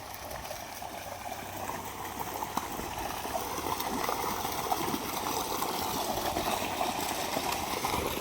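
Water gushing forcefully from a pipe fed by a 5 HP motor pump in a coconut and mango grove, a continuous rushing, splashing flow heard at moderate level throughout.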